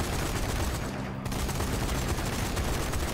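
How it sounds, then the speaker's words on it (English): A gun turret in the video game Army 4: Dead War fires without pause, a loud, dense stream of rapid shots with no gaps for the whole stretch. "Gun turret right here"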